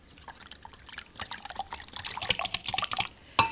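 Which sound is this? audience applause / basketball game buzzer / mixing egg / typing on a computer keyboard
mixing egg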